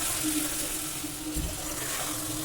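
Water runs steadily while country chicken pieces are washed in a kitchen, giving a soft, continuous splashing with no talk.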